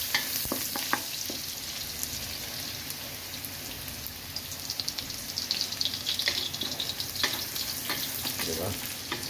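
Garlic and aromatics frying in a pan for laing, a dense, steady crackling sizzle up close with occasional sharp pops and utensil taps.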